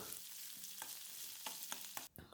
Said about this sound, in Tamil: வெங்காயம் கொஞ்சம் ஓரளவுக்கு நல்லா வதங்குற வரைக்கும் வதக்குனதுக்கப்புறம்